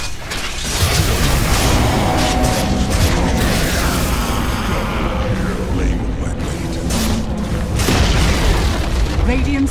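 A tower collapsing in Dota 2 plays as a loud, sustained rumbling boom full of crashing debris. Game announcer-style talk runs over it.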